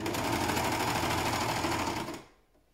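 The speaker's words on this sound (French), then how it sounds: "Faites attention de bien coudre les 3 en même temps." A sewing machine stitches three fabric strips together at once in a steady, fast mechanical whir, running close and even, then slowing and stopping near the end.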